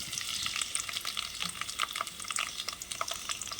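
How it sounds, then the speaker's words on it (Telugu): Green chillies and chopped onion fry in hot oil for a tempering, giving a close, steady crackling sizzle with quick bright pops and a stirred rustle throughout. "ఇప్పుడు తాలింపు వేసుకున్నాను అండి"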